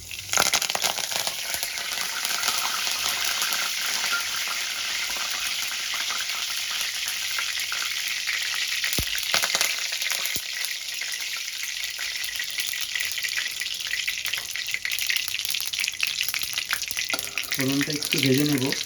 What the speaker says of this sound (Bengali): তেলটা গরম হলেই আমি ফোড়নে দিয়ে দেব গোটা ধনে আর কারি পাতা।